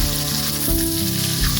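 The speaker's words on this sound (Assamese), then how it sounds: "একদম তেলত ভিজাই দিয়া হৈছে মাছসমূহ। ফ্ৰাই হৈ লওক।" Fish pieces fry in hot oil in a kadai, a loud, continuous close sizzle and crackle with no talking.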